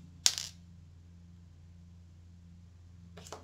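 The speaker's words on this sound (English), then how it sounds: "Snip it just above those curves." Jewelry wire snipped with cutters for a DIY necklace or cuff, a single sharp close metallic click followed by quiet, then a fainter second click at the end.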